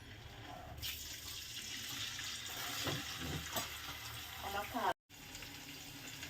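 Inch-sized paneer cubes coated with turmeric fry in a pan, making a steady, close sizzling hiss throughout that breaks off abruptly near the end.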